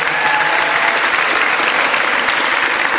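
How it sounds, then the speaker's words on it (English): A large audience applauds Pennsylvania Governor Josh Shapiro at a Philadelphia event, with dense, steady clapping that stays loud and even from start to finish, without pauses. "Give him a real big round of applause."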